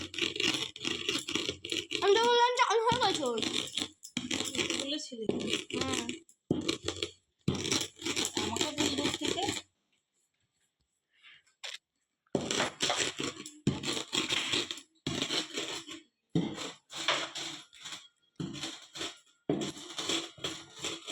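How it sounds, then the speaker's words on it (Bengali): Spices being ground into powder in a grinder, with harsh rattling, crushing bursts that stop and start in uneven runs, broken by a few short silent gaps. "এই মশলা গুঁড়ো করছি"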